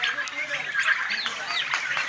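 Turkeys at a turkey farm call and gobble in a dense, continuous chorus, several birds overlapping at close range.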